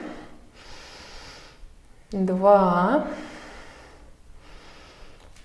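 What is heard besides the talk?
slow even breathing through the nose during yoga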